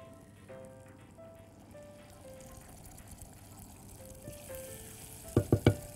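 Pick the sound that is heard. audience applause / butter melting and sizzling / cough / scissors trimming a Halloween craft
butter melting and sizzling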